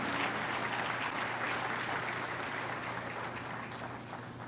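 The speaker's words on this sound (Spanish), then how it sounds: "Yo creo que merece un aplauso el Señor" A church congregation claps together in a steady, sustained round of applause, a full and even wash of hands filling the hall before slowly easing off.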